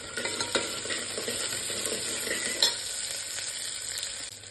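Garlic cloves and curry leaves fry in hot oil in a pan, giving a steady, dense sizzle and crackle close by with brief spits and stirring clinks, no voices.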